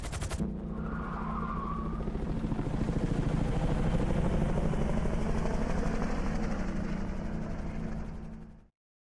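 Helicopter in Grand Theft Auto Online lifts off during a Fleeca Bank heist, its rotor chopping loud and steady for about eight seconds with a brief skid-like squeal near the start, then cutting off abruptly.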